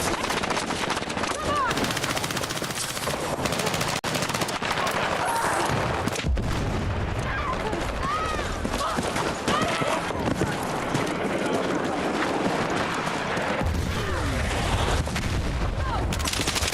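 Shotgun blasts and bursts of automatic gunfire in the PUBG battle royale game, dense and loud over a continuous busy game soundscape, with voices talking throughout.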